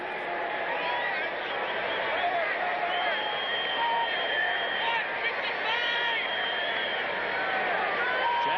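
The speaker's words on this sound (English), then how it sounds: "Some of the fans starting up a cheer for Randall Cunningham" Football fans in the stands at Philadelphia raise a steady, distant roar of cheering in a stadium, muffled and continuous, with voices over it throughout.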